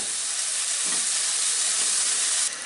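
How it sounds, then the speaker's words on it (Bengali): A cup of finely chopped onions fries in a pan toward light brown, giving a loud, steady, close sizzle that holds unbroken for the whole stretch with no voices. "আমি এর মধ্যে এক কাপ কুচি কুচি করে রাখা পেঁয়াজ দিয়ে দিব দিয়ে এটাকে হালকা বাদামি হওয়া পর্যন্ত আমি ভেজে নেব"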